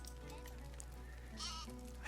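A sheep bleats in the village-building video game Dawn of Man, a short wavering call heard fairly close over a low steady background hum.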